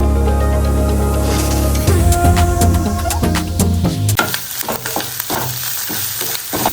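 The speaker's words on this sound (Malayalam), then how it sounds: "അപ്പോൾ നമ്മുടെ വെണ്ടക്കായൊക്കെ ഒന്ന് ഫ്രൈ ആയിട്ടുണ്ട്" Okra frying in hot oil in a home kitchen pan, sizzling loudly and steadily up close, with occasional stirring scrapes and a crackling change in the spatter partway through.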